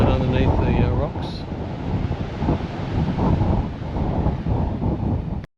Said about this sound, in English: it's in a gap in the rock shelf, blowing a gale.